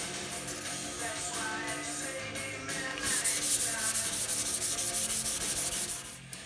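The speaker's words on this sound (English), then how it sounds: "So I think I'm going to be using 1000 grit wet sandpaper. Nope, you know what? I'm going to use 800." A guitar body with a filled humbucker cavity is wet sanded with 800 grit sandpaper, making continuous close rasping strokes that turn louder and more rhythmic partway through, with no talking.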